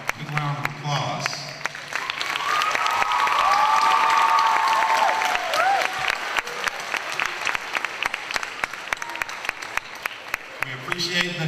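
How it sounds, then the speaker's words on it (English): Audience applause fills an award ceremony hall, a dense steady wash of clapping that swells and holds for several seconds, with a few voices and some whistling or cheering mixed in. "So please, if you're in the audience, stand up so we can give you a quick round of applause."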